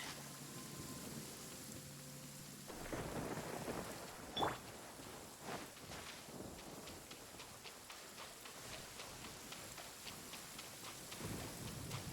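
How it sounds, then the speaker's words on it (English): Steady rain hisses throughout in Genshin Impact, with a sharp crack of thunder partway through and a few softer rumbles, with no voices over it. "It's raining again."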